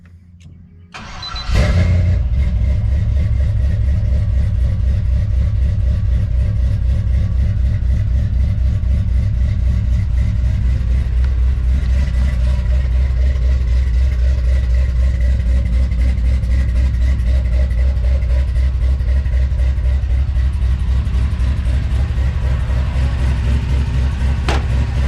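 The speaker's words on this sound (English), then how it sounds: "So we're gonna try to start the truck." A truck with rewired switches cranks briefly and fires, then settles into a loud, steady, close idle with a deep, even rumble that runs on without a break.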